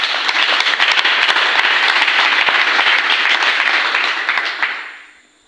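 A congregation applauding: loud, dense, sustained clapping from many people that holds steady for several seconds and then fades away quickly at the end.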